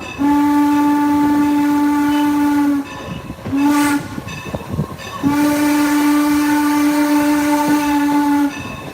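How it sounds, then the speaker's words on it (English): A loud whistle from Norfolk and Western steam locomotive number 475 on the Strasburg Railroad blows a long sustained blast, breaks off with a short toot, then sounds another long blast, close and piercing. "I'll let you hear the whistle"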